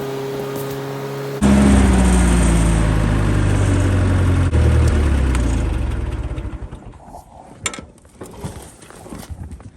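A Massey 35 two-wheel-drive tractor engine runs loud and close in snowy bush, a steady low drone with shifting tones that fades and grows rougher toward the end.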